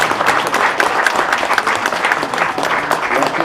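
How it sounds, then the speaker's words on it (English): An audience at an academic building grand opening gives a round of applause as a speaker is welcomed to the podium, a steady wash of many hands clapping throughout. "Let's give a round of applause."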